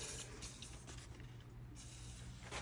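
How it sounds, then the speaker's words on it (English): WD-40 is sprayed into a Jeep TJ Wrangler door latch mechanism, giving a soft, faint, continuous hiss over low background rumble, with no talking. "And I'll spray inside the mechanism where all the moving metal parts touch each other."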